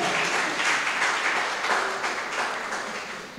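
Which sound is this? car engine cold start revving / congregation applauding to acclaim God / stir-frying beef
congregation applauding to acclaim God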